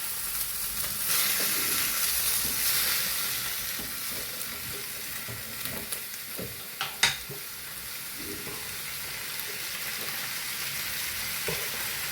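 Chopped tomatoes and tamarind sizzling and frying steadily in a pan, a continuous close crackle with faint stirring scrapes throughout.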